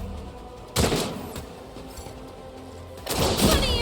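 Two loud bursts of gunfire in Warhammer 40,000: Rogue Trader, each a sharp crack with a ringing tail, separated by a quieter stretch of low ambient rumble.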